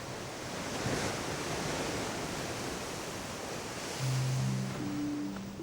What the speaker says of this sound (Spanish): El mar golpea con fuerza contra la acantilada costa volcánica del Golfo